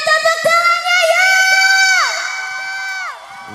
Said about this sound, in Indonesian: yang berada di sebelah sini mana tepuk tangannya ya